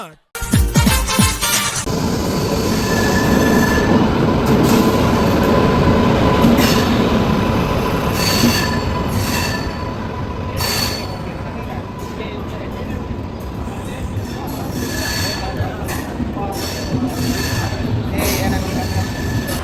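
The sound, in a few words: train arriving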